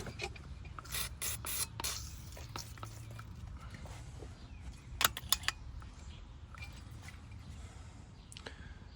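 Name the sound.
spraying lubricant on bolts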